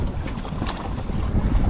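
Wind gusting over open water while kayaking in Antarctica, a steady, loud, rough roar buffeting the microphone with sea wash beneath it, and no voices.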